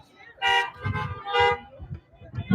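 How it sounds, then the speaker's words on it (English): Car horns honk at a drive-in church service on a Sunday morning, two or three short toots separated by gaps, with a voice speaking in the low range beneath them. "honk your horn"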